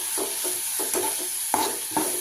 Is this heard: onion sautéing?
yes